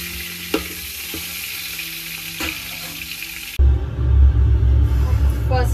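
Cardamom pods dropping into hot oil for biryani: a steady hiss with a few utensil taps, then a sudden louder, rumbling burst of sizzling for the last couple of seconds, close and busy.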